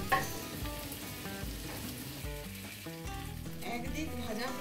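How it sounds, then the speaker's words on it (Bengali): Potato tikki shallow frying in oil on a hot iron griddle, giving a steady, even sizzle and crackle that carries on unbroken, with faint music in the background. "লোহার তাওয়াতে তেল দিলাম শ্যালো ফ্রাই করব বলে। তাওয়া গরম হলে টিক্কি সাজিয়ে দিলাম।"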